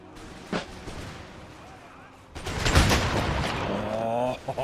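Musket volleys and artillery crossfire from the video game Empire: Total War, a dull boom followed by a swelling roar of continuous gunfire and explosions, with a voice talking over the battle near the end.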